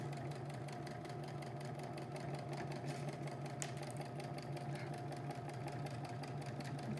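A sewing machine runs steadily and quietly as fabric is guided along the presser foot for a children's tote bag seam, a continuous rapid mechanical whirr without pause.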